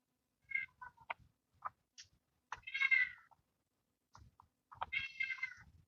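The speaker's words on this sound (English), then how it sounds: "If you can hear the kitten, he's meowing in the background." A kitten meows several times in a quiet room, soft and fairly close, with short chirps and two longer drawn-out cries spread over a few seconds and no speech.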